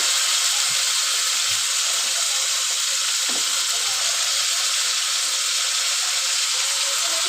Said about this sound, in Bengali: এবার সুন্দর করে লাল লাল করে ভেজে নেব।